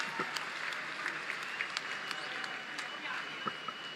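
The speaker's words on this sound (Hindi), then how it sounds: "तो जोरदार तालियां हो जाएं फिर से दोनों हॉकी टीम्स के लिए।" Audience applause, dense and steady clapping filling the whole stretch, at an event honoring two hockey teams, moderately loud with scattered sharp claps standing out.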